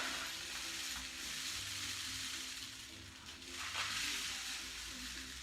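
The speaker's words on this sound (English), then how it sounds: "you get the spiraling of the foil correct so that when you put the rice inside, it sounds like rain" A homemade rainstick filled with rice over a spiral of foil, tilted to let the grains trickle down in a soft, continuous hiss and patter like light rain, fairly quiet and steady throughout with a brief surge near the end.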